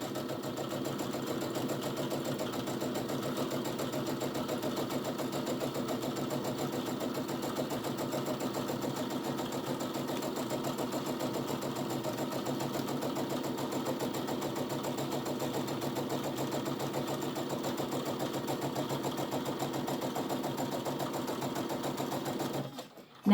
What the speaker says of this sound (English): And then we'll sew along the bottom of the bag.